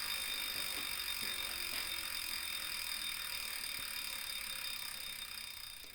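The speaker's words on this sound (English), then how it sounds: "And the ratchet there is probably the loudest thing you can hear on this trainer." A Wahoo Kickr Core smart trainer's freehub ratchet clicks while pedaling, a faint steady mechanical whir with light, irregular ticks over a constant hiss.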